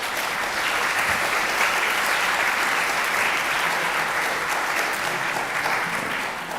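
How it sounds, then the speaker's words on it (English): An audience claps steadily in a hall, a dense, even wash of applause that holds at a constant level throughout with no voices. "a round of applause for him"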